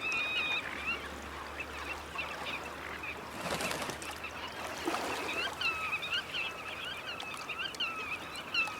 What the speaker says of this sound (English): They are black-tailed godwits.